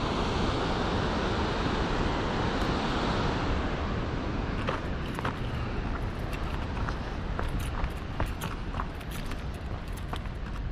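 Low but still turbulent river water rushes steadily and loudly close by, a continuous broadband roar with faint scattered clicks and knocks over it and no voices.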